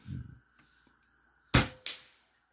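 An Air Venturi Avenge-X PCP air rifle, shooting around 880, fires a sharp, loud crack followed about a third of a second later by a second, shorter snap. A brief murmur of voice is heard before the shot.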